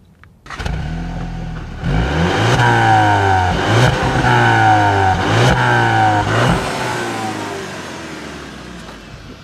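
A Volkswagen Jetta GLI engine starts and revs up several times in quick succession, each rise cut off at its 4,000 RPM limit and repeated, loud and close with a steady idle beneath.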